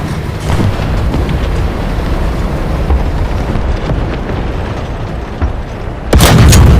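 Artillery fire in War Thunder with a heavy, rumbling roar throughout and a loud close blast near the end, carried over a constant low battlefield din.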